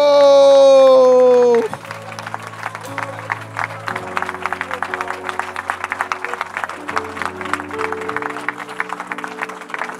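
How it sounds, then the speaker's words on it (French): A church congregation claps and cheers continuously after a sustained sung or shouted note fades, with scattered voices and musical tones held under the applause. "Give the Lord a round of applause."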